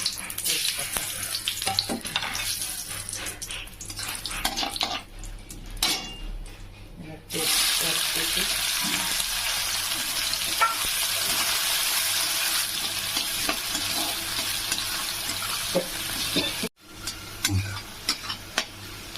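Cumin, cinnamon and whole cardamom crackle and sizzle loudly in hot oil, a dense continuous hiss with stirring scrapes and a brief pause near the end.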